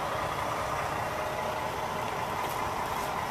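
A diesel engine idles at a truck stop in Gas City, Indiana, beside a newer Peterbilt truck with an aerodynamic hood, giving a steady, even rumble with no breaks.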